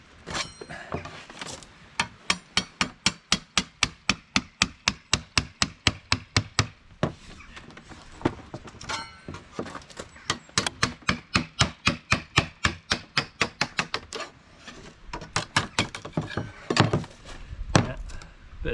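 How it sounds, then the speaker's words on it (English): Glued plywood headliner surface being split apart with a tool, a long run of sharp, evenly spaced knocking strikes, close and fairly loud, with brief pauses partway through. "just splitting the glued surface, trying not to delaminate the plywood too much"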